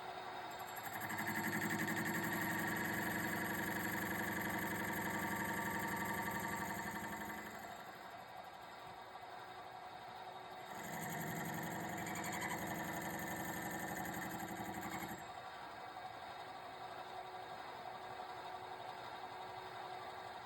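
A metal-turning lathe takes small cuts on the rim of a lid held on a mandrel, for a marine plant model build. The motor hums steadily, with two louder cutting passes that fade between, and no talking.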